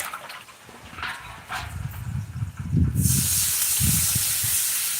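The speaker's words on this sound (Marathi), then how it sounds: "त्याच्यात थोडं पाणी टाकून" Water splashes into a hot pan of chillies frying with turmeric, setting off a loud hiss that swells into a sustained sizzle after a few softer clinks and bubbling bursts.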